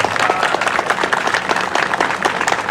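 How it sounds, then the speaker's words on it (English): Outdoor crowd applauding at a veterans mural dedication in DeKalb, a dense steady burst of clapping close by throughout. "I want to give a round of applause to Fody Pappas for allowing us to have this mural on his building"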